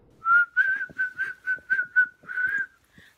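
A person whistles a short tune close by, eight clear tonal notes in a bouncy rhythm with the last one held longer, alone against a quiet background.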